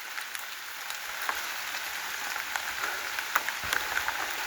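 Heavy rain falls steadily, a dense hiss of drops on surfaces with scattered sharper taps and splats, moderately distant and constant throughout, with no voices.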